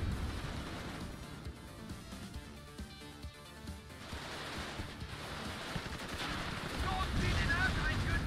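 Gunfire rattles through a WARNO battle with a tank nearby, a dense continuous wash of distant shots and explosions that grows louder toward the end.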